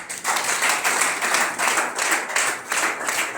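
An audience breaks into loud, sustained applause for longtime associates at a gathering, the clapping dense and steady throughout with slight swells.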